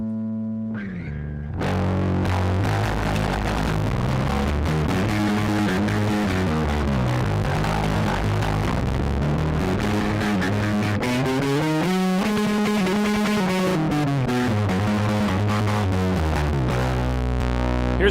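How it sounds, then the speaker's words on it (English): Bass guitar played through a distortion circuit pedal, a sustained run of gritty, harmonically rich notes after a brief quieter clean opening, loud and steady throughout with no talking. "here is the overdrive circuit, or like the distortion circuit, I mean"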